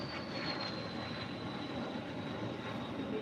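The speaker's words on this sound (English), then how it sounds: "That was quite the little takeoff there." A Speedbird Boeing 777 airliner taking off at LAX produces a steady, broad jet roar with a faint high whine, heard from a distance and without voices.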